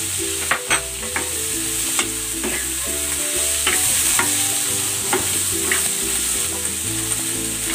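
Pork belly and Baguio beans stir-fry in a pan with chayote, giving a steady loud sizzle. A spatula scrapes and clinks against the pan at irregular intervals throughout, close up and without talk.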